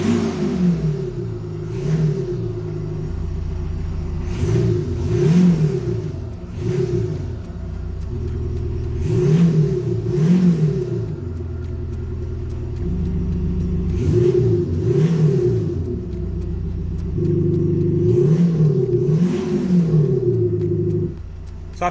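A VW Transporter T6.1 fitted with an app-controlled sound booster is revved repeatedly, each blip swelling into a throaty rising roar before dropping back to a steady idle, several evenly spaced revs heard close and loud with no talking.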